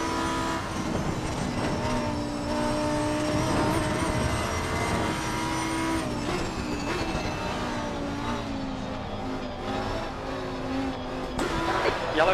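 Race cars, including fast Aston Martins, lap Paul Ricard in the racing game Assetto Corsa Competizione: sustained loud engine drones with shifting pitch as cars pass and change gear, layered over one another without any speech.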